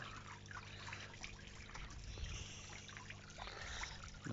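Small garden pond waterfall trickling steadily nearby, a soft continuous patter of falling water with no voices.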